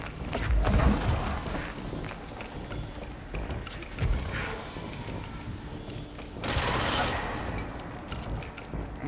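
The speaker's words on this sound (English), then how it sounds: "That's fine, keep shooting at me." Enemies in the game Control fire in rapid bursts, with heavier volleys near the start and again later. Other in-game noise fills the gaps between bursts.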